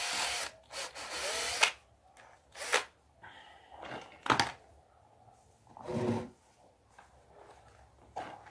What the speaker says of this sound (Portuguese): Vou pegar a broquinha aqui